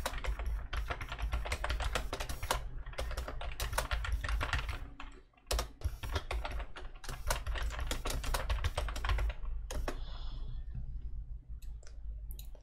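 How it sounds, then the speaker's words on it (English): Fast, steady typing on a computer keyboard while entering lines into a Microsoft Word document, with dense clicking keystrokes, a brief pause midway and a tapering finish. "Let me type some few lines."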